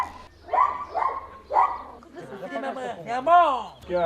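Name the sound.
dog barking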